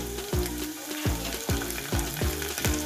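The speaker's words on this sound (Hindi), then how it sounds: "हो गया 8 से 10 हम कड़ी पत्ता डालेंगे।" Curry leaves crackle and sizzle in hot oil with asafoetida for Gujarati dal dhokli, a loud, steady frying hiss punctuated by a series of sharp spluttering pops roughly every half second, close up and with no voices.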